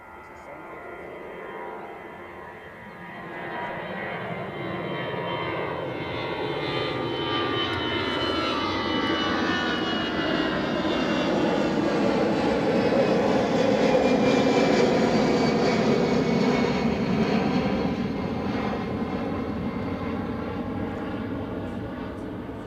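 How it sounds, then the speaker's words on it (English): EasyJet passenger jet taking off from Edinburgh Airport, its engine roar building steadily from a distance into a broad, loud rumble that peaks and starts to fade, with light talk faintly underneath. "The EasyJet that you've just waved off is off to Londonderry."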